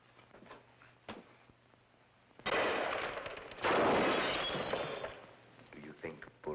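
Gunshots ring out in an old film, a loud, harsh burst followed by a second long blast, standing out sharply against quiet dialogue-level background.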